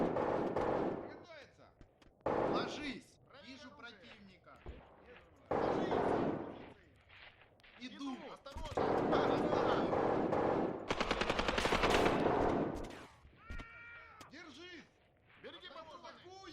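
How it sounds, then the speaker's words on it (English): Bursts of gunfire from an attack in the Graviteam war game, rapid machine-gun rattles and single shots coming in irregular clusters, mixed with someone speaking over and between the firing. "Encountering some light fire now."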